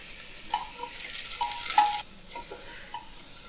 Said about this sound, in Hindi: अब मैं इसमें थोड़ा सा जीरा डाल दूंगी और हरी मिर्च।